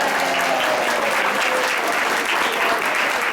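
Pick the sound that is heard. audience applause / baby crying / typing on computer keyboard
audience applause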